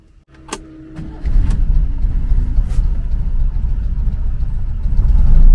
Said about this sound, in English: So let's start it up and see what happens. When it's on idle, there's no problem if it's on 0, but when you add gas, it should start going up